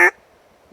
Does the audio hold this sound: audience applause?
no